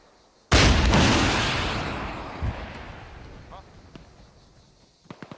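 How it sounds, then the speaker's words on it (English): An anti-tank missile launches in a military shooter video game with one sudden loud blast, followed by a long roaring rush that slowly fades, then a few faint distant pops near the end. "Missile."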